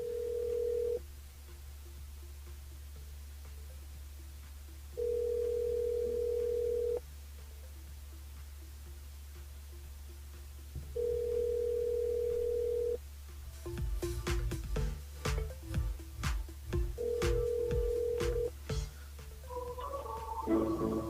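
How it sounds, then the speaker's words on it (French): A telephone line on a live radio morning show's switchboard, with repeated steady ringback tones in a regular on-off pattern, followed by a burst of rapid dialing beeps and more tones, heard clearly over a low hum. "Elle appelle Sabrina, c'est le standard."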